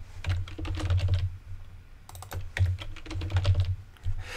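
Rapid clicking of a computer keyboard during Java programming, including a Control-D shortcut, with bursts of close, crisp keystrokes separated by brief pauses and no talking.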